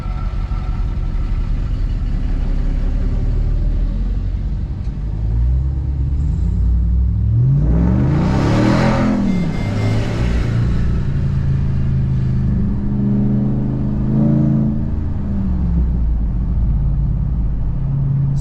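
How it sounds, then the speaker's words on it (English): Car supercharger whining during acceleration, a rising and falling whine over a loud engine rumble, swelling close by in the middle and again toward the end. "Guy next to me wanted to hear the supercharger"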